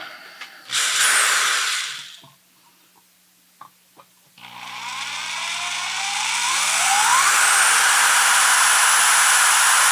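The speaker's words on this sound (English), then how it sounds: "I'm going to drill it out." A power drill bores a hole during a guitar effects pedal build. It gives a short whining burst, then a few clicks, then a long, loud, steady run that climbs slightly in pitch.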